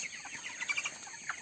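Young chickens, 22 days old, give soft, faint peeps and clucks in a quiet coop at night, with a few brief, slightly louder calls around the middle.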